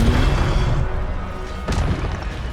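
A fire spell cast in the Hogwarts Legacy video game bursts out as a loud, dense whoosh and rumble, with a sharp crack near the middle, all over a steady roar of battle noise.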